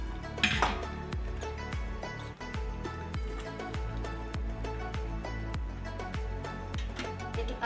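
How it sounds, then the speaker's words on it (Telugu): A spoon stirs chicken haleem in a metal pot, knocking against the sides in a steady run of quick, evenly spaced clinks, close and clear without talk. "అలాగే ఇట్లా కలుపుకున్నా ఇప్పుడు రెడీ అయిపోయింది హలీము"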